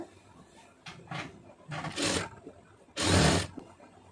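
A domestic sewing machine stitches a waistband hem in short bursts, a whirring mechanical run of needle strokes that starts and stops several times, with the longest and loudest burst near the end.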